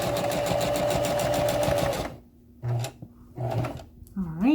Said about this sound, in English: I like to back stitch like 2 times here.